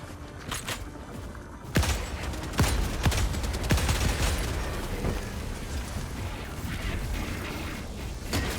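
A laser cannon fires in a shooter video game, producing several sharp blasts in quick succession over a rumbling, crackling mechanical din that swells and then trails off.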